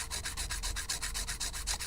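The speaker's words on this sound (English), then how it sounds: "So I'm gonna start filing here from the side, right?" A nail file rasps steadily across a dip powder nail, with quick, even back-and-forth strokes in a close, regular rhythm and no talking.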